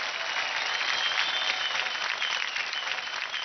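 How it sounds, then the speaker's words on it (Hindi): Loud, sustained audience applause in a TV dance competition studio, steady dense clapping throughout with slight swells and no voices on top. "जोरदार तालियां हो जाए."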